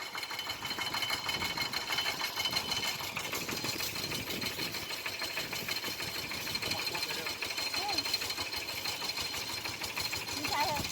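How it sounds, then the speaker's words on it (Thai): A tractor engine running during the rice harvest: a rapid, rhythmic mechanical chugging that stays steady and fairly close for the whole stretch, with people's voices faintly mixed in. "รถไถแล้ว พี่น้อง"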